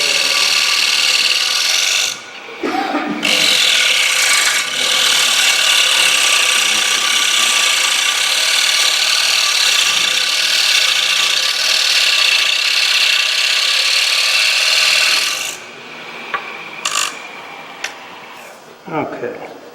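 A small wood lathe turns while a tool takes light cuts on the spinning wood, making a sustained loud scraping, rasping drone that pauses briefly and ends with a few scattered knocks.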